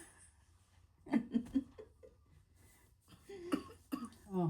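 A few short, faint coughs come in small bursts, separated by quiet pauses, with light breathy sounds between them.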